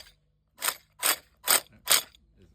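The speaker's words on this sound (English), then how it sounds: "So we got the little impact wrench." A small impact wrench working on the clutch basket nut of a KLX 140 dirt bike fires four short ratcheting bursts in a steady rhythm, close by and with no voices.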